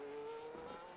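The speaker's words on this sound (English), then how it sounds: "Because I hear cars." Race cars in a sim-racing game at the Austria Grand Prix circuit, engines droning steadily at a moderate distance with a faint tire scrub, continuous throughout the short moment.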